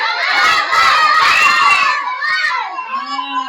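A group of young children in a classroom call out together in loud, high voices imitating a dog's barking, a sustained chorus that breaks into shorter separate yelps toward the end.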